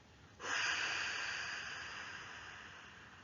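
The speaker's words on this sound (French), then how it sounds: "Soufflez fort par la bouche pour chasser les dernières tensions accumulées dans notre corps." A forceful exhale blown out through the mouth during a relaxation breathing exercise, a single close, breathy rush of air that starts abruptly and slowly fades over a few seconds.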